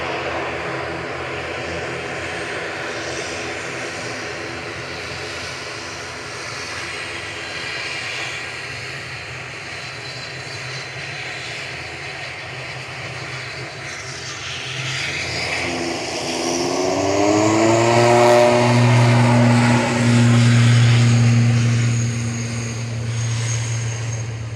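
An ATR 72-600 turboprop departs Manchester Airport, its engine drone building from a steady background hum into a loud, rising propeller whine that peaks late and then eases, with no talking.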